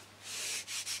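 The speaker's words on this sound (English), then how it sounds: "I give it a light sanding to get rid of this" Sandpaper wrapped on a small wood block rubs across a wing's leading edge, making a few close, soft, scratchy strokes in quick succession, with no voices.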